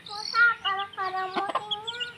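Pet chickens cluck in a short run of close, harmonic calls, with a couple of sharper squawks in the middle and no voices.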